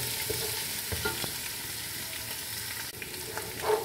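Garlic ginger paste fries in hot oil for dal tadka, giving a steady close sizzle broken by a few scraping stirs.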